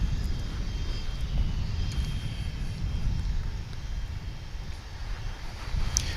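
An American Airlines A321 arriving from Oklahoma City on approach to land at DFW airport gives a steady, distant low engine roar with wind rumble, continuous and fairly loud throughout.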